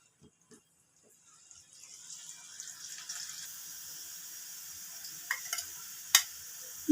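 Turmeric and chili powder spices frying in a pan for a parshe fish curry, a faint sizzle that starts low and builds into a steady hiss, with a few light clinks near the end.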